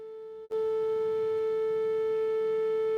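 A steady 440 Hz test tone passes through an MC1496 AM modulator and starts abruptly after a short silence. It then holds continuously with a rich set of harmonics and a faint hum underneath, and no voices.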